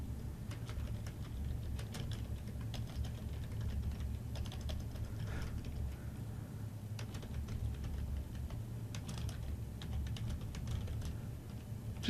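Someone types a short note on a computer keyboard. The soft, irregular clicks come in small bursts over a steady low room hum, with no talking.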